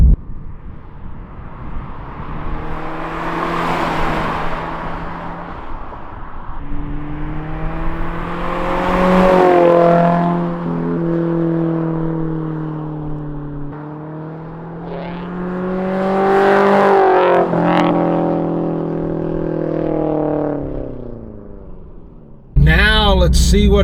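A Toyota GR86 fitted with an aftermarket exhaust drives past several times, each pass swelling to a loud, rising engine drone and fading away, with a sharp loud burst near the end.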